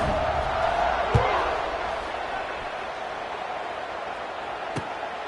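Steady crowd roar from a college football stadium as fans get behind their team before a kickoff, a continuous dense wash of voices with a couple of sharp thumps.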